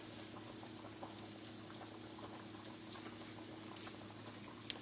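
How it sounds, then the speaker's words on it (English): Chicken frying in foaming grapeseed oil for Spanish chicken and rice, giving a steady, soft crackling sizzle with a low hum underneath and occasional small pops, heard alone at moderate level. "And it's grapeseed oil I'm frying this"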